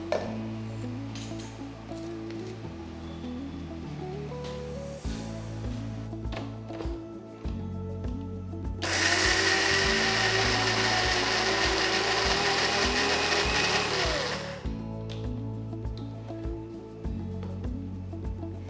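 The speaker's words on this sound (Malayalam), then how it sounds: "ഇതെല്ലാം കൂടെ ഒന്ന് ചതച്ചെടുക്കുക" A mixer grinder crushes mustard seeds and cumin in a short, loud burst of whirring and rattling, running about five seconds over steady background music before stopping.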